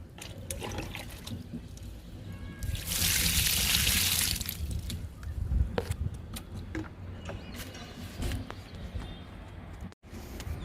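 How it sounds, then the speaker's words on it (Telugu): Water splashes from a container onto the soil of a potted guava plant in a steady two-second gush, with trickling and light handling noises before and after. No one speaks. "జామ మొక్కకి ఇస్తున్నాను వాటరు"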